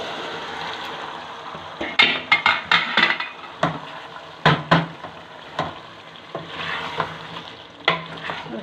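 Boiled chickpeas being stirred into sizzling masala in a pan for a chicken and chickpea curry, with steady frying hiss broken by a run of sharp scraping stirs, close and fairly loud, no talking.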